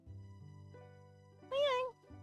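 A cat gives one clear, rising-and-falling meow close by, rising above a quiet room with a steady low electrical hum.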